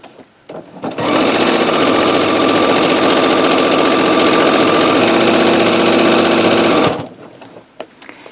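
A sewing machine stitches a minky quilt, a fast, steady mechanical whir that starts abruptly, runs evenly at close range for about six seconds, then stops, with faint handling noises before and after.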